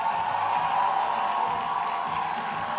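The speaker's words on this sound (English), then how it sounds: "Can we have a really warm round of applause for Idris Elba?" Warm applause and cheering from a crowd at an event welcoming a celebrity onto a catwalk stage, a steady, dense wash of clapping and voices sustained throughout.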